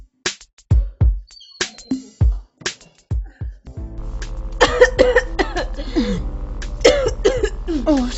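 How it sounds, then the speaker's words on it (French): Repeated harsh coughing from a person, a series of sharp bursts in the first half, then more coughs over a steady low hum and background noise. "Et qu'est-ce que tu prends pour la toux?"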